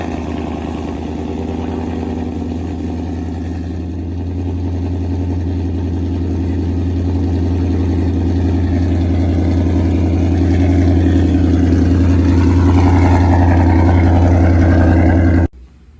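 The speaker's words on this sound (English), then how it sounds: "now let's get a cold start and see how the lights light up" A 2019 Ford Mustang GT V8 fires up from cold and settles into a loud, steady, deep idle that climbs slightly in pitch and intensity before cutting off abruptly near the end.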